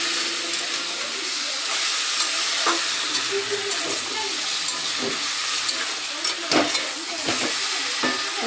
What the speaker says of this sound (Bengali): কাঁকড়াটা ভাজবো না বেশি